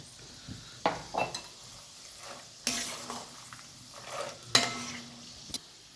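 Garlic going into a pan of frying chivda, a soft sizzle with several sharp metallic scrapes and clinks of a spoon stirring against the pan at irregular intervals.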